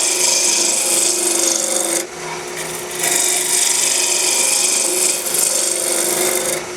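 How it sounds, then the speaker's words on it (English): A roughing gouge cutting ambrosia maple spinning on a wood lathe, a loud continuous rasping scrape that dips briefly at about two seconds and near five seconds before resuming at full strength. "I'm going to use my regular roughing gouge"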